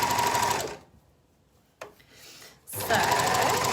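An overlock sewing machine stitches a side seam on a stretch-fabric garment body, a loud, steady whirring run that stops, leaves a near-silent pause with a brief clack, then starts up again at full speed.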